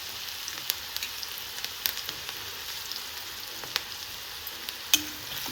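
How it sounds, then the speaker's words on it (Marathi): Finely chopped ginger and garlic added to onion frying in a pan for poha cutlets, a steady close sizzle with scattered small pops and crackles, no voices. "आता कारण ते आलं लसूण चिरलेलं आहे ते घातलं बारीक."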